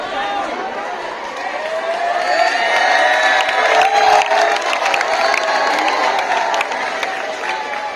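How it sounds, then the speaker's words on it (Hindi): Schoolchildren at a Teachers' Day celebration in school fill the space with a steady, loud crowd din of cheering and shouting, with some clapping mixed in throughout. "ये सभी बच्चे जो लोग हैं कि सिर्फ ताली बजा सकते हैं, ताली बजाएं, इसके अलावा शोर न बजाएं।"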